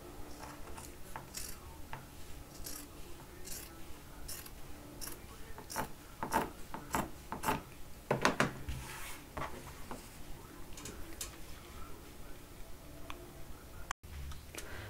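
Scissors cutting through a plastic bottle to shape a homemade face shield, a long run of sharp, irregular snips and crackles, louder in a dense burst midway, with no talking.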